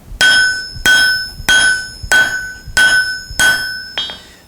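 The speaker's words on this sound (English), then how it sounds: "even though I'm using a 4-pound hammer, and I'm knocking the snot out of it" A 4-pound hammer strikes steel while a drift for axe and hammer heads is being made, seven loud, ringing metallic blows landing at an even, deliberate rhythm, close up with no talk.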